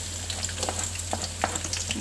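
Chopped shallots and garlic fry in a pan with a steady close sizzle and scattered crackling pops, no talking.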